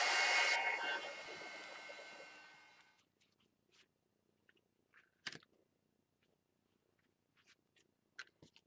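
A hair dryer drying a mixed media paint background runs loudly as a steady whooshing blow, then winds down and fades out within about three seconds, followed by quiet faint taps and small handling sounds.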